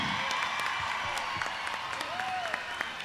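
A concert audience at a show at the Fiesta del Caballo in Argentina claps steadily in a dense, continuous wash of applause, heard from within the crowd with scattered sharper claps.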